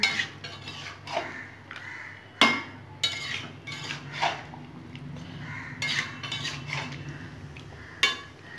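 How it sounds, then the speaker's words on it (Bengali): Fried papaya and potato get stirred into a chicken curry in a pot, giving irregular metallic scrapes and clinks of a spoon against the pot, near and moderately loud with quiet gaps between strokes. "সেগুলো দিয়েও আমি ভালো করে একটু নাড়িয়ে নেব।"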